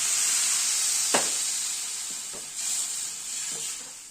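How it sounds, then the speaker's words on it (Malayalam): Water poured into hot roasted semolina (rava) for upma gives a steady hiss and sizzle, with a few soft stirring clatters in a pan and no talk. "അതിലേക്ക് നമ്മൾ ഈ 1 കപ്പ് വെള്ളം ഒഴിക്കുന്നു."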